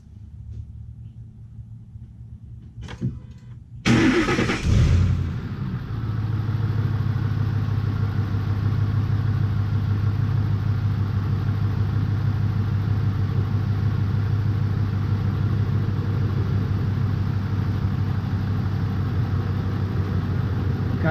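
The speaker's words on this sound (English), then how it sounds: "Okay, I'm going to start this truck back up." A Ford F150 truck with a bad ignition coil cranks briefly, catches with a loud start, then settles into a steady, low, rumbling idle that runs on evenly, close by, with no talk.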